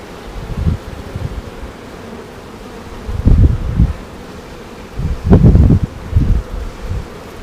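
Honeybees clustered in a hive give a low, uneven buzzing that swells in several louder bursts, close to the microphone, with rustling mixed in.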